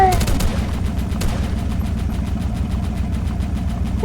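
A video game tank engine drones loud and steady while a rapid burst of gunfire crackles at the start, followed by a rhythmic mechanical pulsing right up close.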